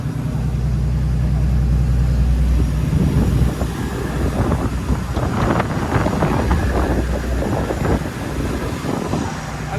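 Wind buffets a fishing boat on the open sea off Porbandar, a loud, rough roar pressing on the microphone over a low, steady hum, with occasional knocks and rattles as the hull shifts.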